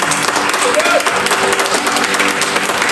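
A congregation at an El Shaddai prayer meeting in Kariya breaks into loud, close, continuous clapping that fills the room with a steady roar of hands.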